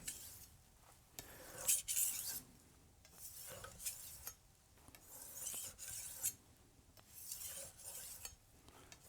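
Rhythmic rasping strokes of a Wusthof Classic chef's knife drawn across a sharpening stone, each gritty scrape rising and falling in a steady back-and-forth pattern, close and fairly quiet with no voices.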